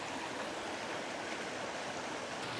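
Water in a stream rushes and flows steadily under a rock outdoors, a continuous broad hiss with no pauses or voices.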